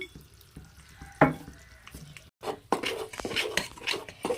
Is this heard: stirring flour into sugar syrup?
yes